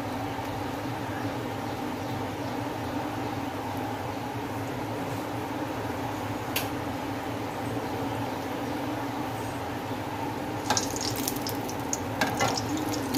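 Gulab jamun frying in oil over a low gas flame give a steady, even sizzle that holds throughout, with a few faint clicks and taps near the end.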